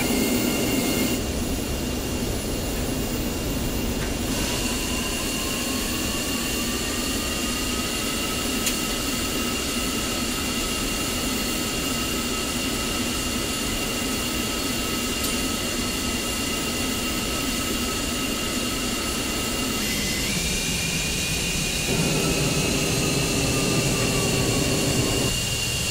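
Twin jet engines of an F-15C fighter in the DCS flight simulator run steadily at idle after start-up, a continuous whine and roar with a shifting tone partway through, loud and close, with no voices.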